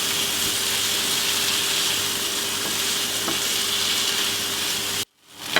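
Onions frying in butter sizzle in a pan as a tartiflette is started, a steady close hissing crackle that runs unbroken before cutting off abruptly near the end.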